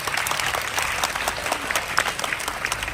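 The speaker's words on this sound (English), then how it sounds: "A big round of applause for them as well." Dense, steady applause from an audience at a school Independence Day celebration, honoring young performers on drums, keyboard and clap box; many hands clapping close and continuous throughout.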